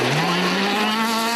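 A home-built Honda rally car engine revs hard and loud at close range, its steady high-pitched drone climbing slightly in pitch over a short burst, with no other sounds on top.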